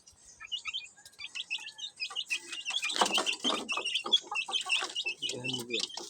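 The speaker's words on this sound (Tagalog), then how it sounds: "Manok panabong." A fighting rooster clucks and crows in short, sharp bursts close by, with bird chirps around it and people talking quietly in the background.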